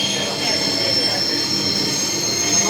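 Metro rail train wheels squealing steadily on the track, a loud sustained high-pitched screech with a constant rumble beneath, continuous throughout without pause.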